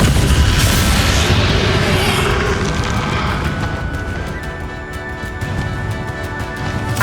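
In the Hogwarts Legacy video game, the Bombarda spell goes off as a loud booming explosion with a heavy rumbling blast that slowly fades into crackling debris and game effects.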